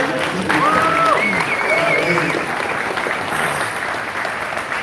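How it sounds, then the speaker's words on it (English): Audience at a conservative event applauds, a sustained wash of clapping from a crowd, fairly loud and steady, with faint voices and whistle-like tones mixed in. "And so let's give them a round of applause."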